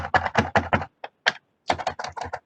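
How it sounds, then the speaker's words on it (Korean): Typing on a computer keyboard while entering figures for an accounting lesson: close, quick clusters of keystrokes that pause briefly near the middle and then resume in steady runs. "지금 나는 어쩔 수 없이, 자, 어쩔 수 없이 지금 타이핑으로 만들고 있지만"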